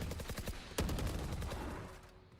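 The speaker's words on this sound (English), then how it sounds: "Shots continue to fly." Gunshots in the video game Valorant come as a rapid burst of automatic fire, then a single louder shot and a few more scattered rounds, fairly faint and fading off at the end.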